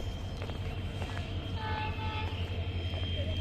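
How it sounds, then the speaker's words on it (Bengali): A train draws toward Parbatipur Junction, a large railway station, as a steady low rumble with thin, horn-like tones in the middle of the stretch. Faint voices sit in the background. "এই যে একটা ট্রেন আসছে"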